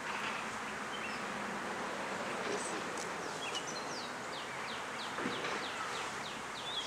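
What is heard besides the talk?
honey bees buzzing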